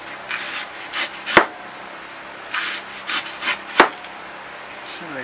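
A knife tip scrapes and rubs a dent into a hard coconut shell in short uneven strokes, with two sharp clicks standing out from the rasping.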